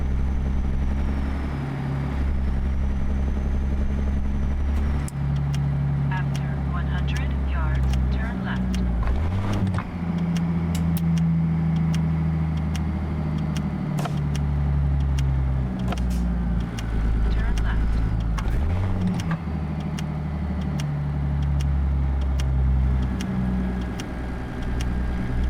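A rackety old Ruda 378 truck in American Truck Simulator drives along with a steady, deep engine drone, and its pitch dips and climbs a couple of times as the gears shift. Voices talk over the engine throughout.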